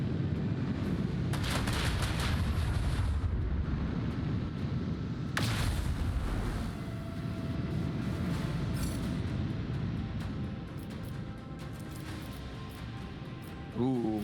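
Starship torpedoes and weapons fire rumble through a space battle in the Warhammer 40K Rogue Trader game. Heavy booming blasts and crackling bursts build into a dense, sustained barrage, with a sharp impact near the middle and a final boom at the end.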